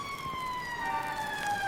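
Police car sirens wail steadily in an audio drama, a sustained gliding tone with layered harmonics that holds loud and close throughout without any voices.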